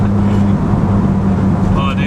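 A Nissan 240SX with a big-turbo RB25 engine pulls hard from inside the cabin, giving a loud, steady droning engine hum with a rising whine near the end.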